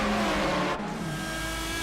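Lamborghini Murcielago R-GT race car with a V12 engine in the Assetto Corsa sim, a sustained, loud droning engine tone holding steady, briefly dipping before carrying on at a constant pitch.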